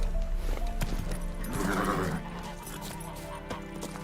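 Roach, a horse in the video game The Witcher 3, galloping with rhythmic hoofbeats and a whinny in the middle, heard over a steady game background with no talking.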